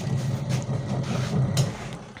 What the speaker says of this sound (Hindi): वॉशिंग मशीन फुल वर्क कर रही है